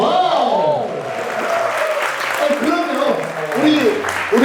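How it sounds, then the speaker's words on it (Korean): Studio audience applause during a Korean talk show, a broad wash of clapping heard under a host's continuous speaking voice. "박수 한번 좀 부탁드립니다."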